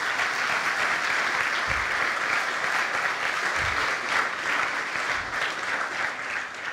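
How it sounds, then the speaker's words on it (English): Audience applause fills a conference keynote hall at the CyCon 2018 cyber conference in Tallinn: steady, dense clapping from a large crowd, sustained and fairly close, with no speech over it. "So please applaud President Toomas Hendrik Ilves here in the front line."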